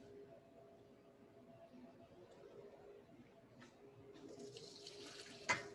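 Hot pasta water poured out of a pot into a kitchen sink to drain, a soft, steady running splash that swells near the end with a brief clatter.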